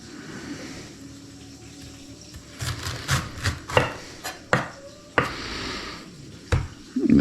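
Knife chopping celery on a cutting board for a chicken rice soup: a run of sharp, irregular chops close by, loud and spaced unevenly, with a faint watery background and no talking.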